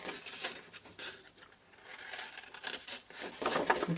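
Scissors snip through a large bag in a handful of quiet, irregular cuts, with soft rustling and crinkling of the material between strokes.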